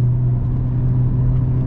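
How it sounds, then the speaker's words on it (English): A 2021 Mercedes-AMG GLA45 4Matic+ crossover with a dual-clutch gearbox, its engine booming in a loud, steady low drone close by as it upshifts, with no voices over it. "Oh yeah, you just hear that boom, you just hear it upshift, and that's that."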